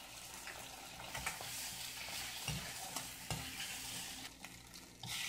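Chicken gravy with added pepper sautéing in a pan, a steady close sizzle broken by repeated scraping stirs and light clinks of a spoon against the metal.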